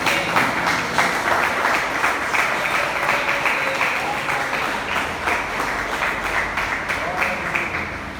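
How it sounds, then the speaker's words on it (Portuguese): A church congregation applauds in praise at a worship service, steady dense clapping filling the space for several seconds with voices mixed in. "Agora você pode aplaudir o Senhor Jesus."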